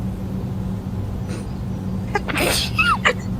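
A single sneeze bursts out near the end after a quiet stretch of background rumble, a sharp breathy explosive sound followed by a brief voiced tail.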